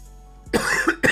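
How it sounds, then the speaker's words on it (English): Two sharp, close coughs, the first a double burst and the second a single hack, after a moment of near silence. "Coughing a little bit."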